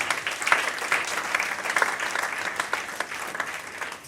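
A church congregation applauds at a religious wedding ceremony, steady dense clapping from many hands filling the space, close and continuous without a break.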